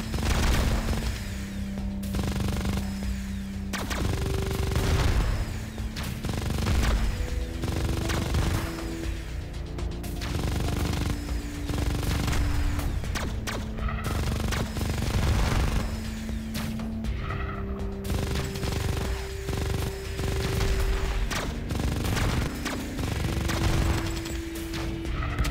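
Continuous rapid gunfire from the mobile space shooter game Xenoraid, a fast steady stream of shots under synthetic game tones and explosions, running without pause and with no voice over it.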